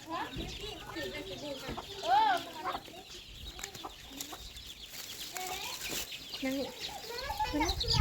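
Chickens cluck and chatter close by in a farmyard, a steady stream of short calls with one louder squawk, while people talk in the background.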